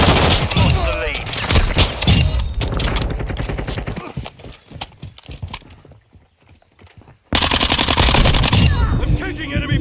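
Rapid automatic gunfire and scattered shots from hostile forces in the video game Modern Warfare 2, loud and dense through most of the clip with a brief lull, mixed with radio chatter and battle noise.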